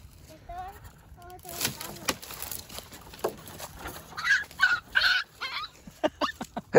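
Frightened dog giving high, thin whimpers early on, followed by clattering and knocking as wooden sticks are dropped, with people talking and clucking fowl in the background.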